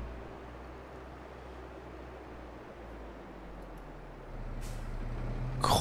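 A tractor pulling a cultivator in Farming Simulator 22, with a steady, droning engine rumble that swells louder near the end, followed by a brief hiss.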